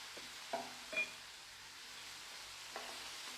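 Faint, steady sizzling of ingredients and curry leaves frying in oil for tamarind chutney, with a few soft clicks of stirring now and then.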